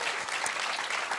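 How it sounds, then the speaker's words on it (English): An audience at a live Writers Bloc talk event claps steadily, a dense, even wash of many hands with no pauses or swells, moderately loud and continuous for about a second, with no voices over it. "let's clap it up"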